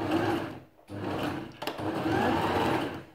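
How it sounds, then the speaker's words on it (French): A domestic sewing machine stitches a seam on a top, running in close steady bursts with a brief pause partway through. "Et je couds."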